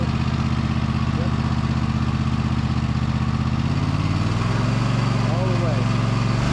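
Toro TimeCutter 60-inch zero-turn mower with a Kohler engine running loud and close, its steady drone rising as the throttle opens to full, with people talking over it.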